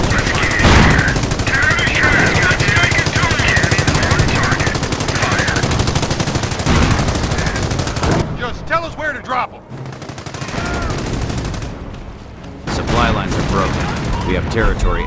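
Loud, sustained bursts of machine-gun and rifle fire rattle through a Company of Heroes battle, with rapid overlapping shots and heavy volleys that briefly ease before resuming, mixed with in-game voices.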